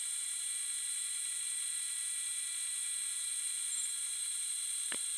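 An ebony and resin pen section being polished on a lathe, a steady high-pitched whir running throughout at constant level, with one brief low thump near the end.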